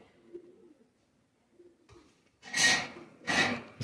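Oman Teddy pigeons coo softly at first, then two louder, breathy coo bursts follow close together near the end.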